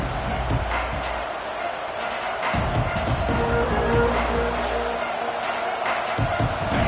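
Stadium crowd noise in an NCAA football video game, a broad, rising roar of fans with a low drone and occasional louder swells, steady over several seconds.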